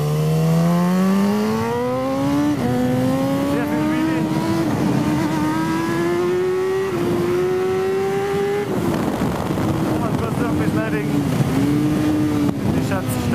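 Superbike on Circuit Zolder accelerating hard through the gears, a loud, close engine whine rising, dipping at each upshift and climbing again, with wind rush and a voice talking over it.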